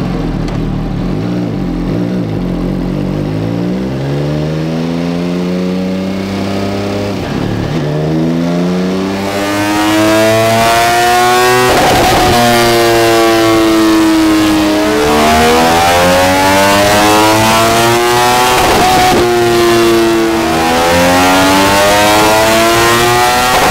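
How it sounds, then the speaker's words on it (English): An MV Agusta F3 675 three-cylinder sport bike revs hard on a dyno, its loud engine sweeping up and down through repeated rising runs with sharp drops between them, continuous and close. "We're going to get it run up on the dyno, see what the bike's doing as standard"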